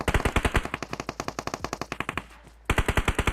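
Enemy automatic fire in PUBG Mobile rattles in rapid, evenly spaced loud bursts, one long volley, a brief pause, then another burst, close and dominant with no talking.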